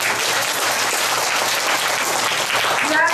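Sustained audience applause fills the whole stretch, a dense, steady wash of many hands clapping at close range, with no speech over it.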